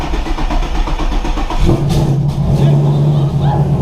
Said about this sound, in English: E85 cold start on the Mustang.